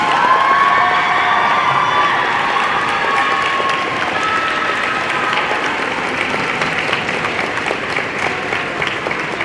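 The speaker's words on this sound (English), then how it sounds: "Yeah, let's hear it, cadets and parents." A crowd of cadets and parents claps and cheers loudly at an NJROTC pass in review, with whoops and shouts rising over continuous applause that gradually eases.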